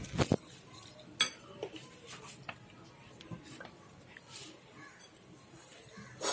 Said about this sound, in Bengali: হলদি পাউডার দেব, আর সামান্য একটু রিফাইন অয়েল এবং জল দিয়ে আমি এটা গুলবো